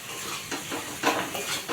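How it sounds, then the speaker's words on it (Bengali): Chili powder and spices being stirred in a frying pan for a Bengali rohu fish curry (tel jhal): soft scraping strokes of a spatula against the pan over a light sizzle, several quick stirs. "একটু লঙ্কার গুঁড়ো দিয়ে একটু নাড়াচাড়া করে নিচ্ছি"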